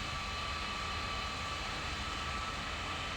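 C-17 Globemaster III jet engines spooling for takeoff in a flight simulator, a constant loud broadband roar with a steady whine, unbroken throughout.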